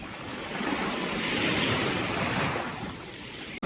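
Black Sea surf washing onto the coast in a steady, close roar of breaking waves, with a touch of wind rumble and no voices.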